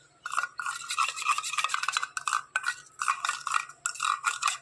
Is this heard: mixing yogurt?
yes